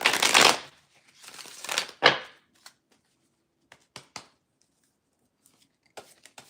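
Tarot cards are shuffled in several quick riffling bursts near the start, followed by a few soft, scattered card taps and flicks, close and alone in a quiet room.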